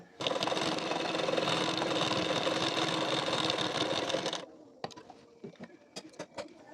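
A sewing machine runs one continuous stitching burst of about four seconds along the edge of a blouse collar strip. Faint clicks and handling noises follow once it stops.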